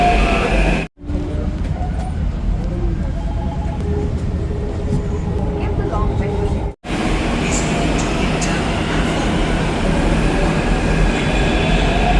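A metro train runs on an elevated line beside a pedestrian skywalk, a loud, sustained rumble of wheels and carriages with faint squeals, heard up close under a general murmur of surroundings.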